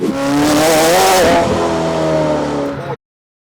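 A Gintani-tuned McLaren Senna engine roars close and loud as the car accelerates against its traction control, revs climbing and wavering for about three seconds before cutting off abruptly.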